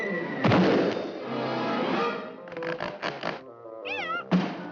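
A loud, drawn-out kitten meow from a 1953 Looney Tunes cartoon, followed by shorter rising and falling cries, close and clear, with a couple of dull thumps.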